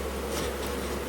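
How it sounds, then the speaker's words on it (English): Honeybees swarming over a shaken hive frame with a caged queen, a dense continuous buzzing hum, close and moderately loud, with no talking. "So it's covered in bees."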